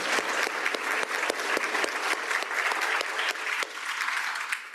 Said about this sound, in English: I'd like for all of us to give one more round of applause for all the young ladies.